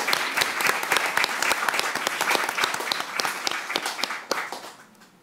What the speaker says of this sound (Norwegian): Fortjener en applaus